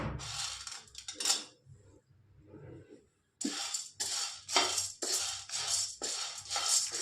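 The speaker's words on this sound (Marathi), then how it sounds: "हलवत भाजून घ्यायला लय भाजायचं नाही" Roasted gram is stirred and dry-roasted in a kadhai, producing rhythmic scraping, rustling strokes at close range, with a brief pause before the stirring resumes.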